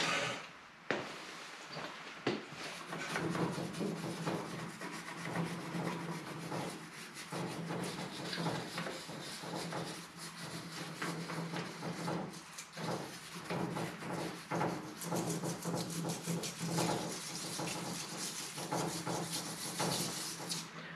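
Steady rubbing and rasping scrub on a part from a 1948 Harley-Davidson WL Flathead 45 engine during cleaning, continuous and close with an uneven back-and-forth rhythm.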